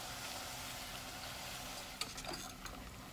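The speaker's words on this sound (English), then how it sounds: "I'm going to be mixing and toasting my tortillas." Corn tortillas fry in a pan of hot vegetable oil, giving a steady, quiet sizzle with a few brief clicks and stirring taps near the end, and no one speaking.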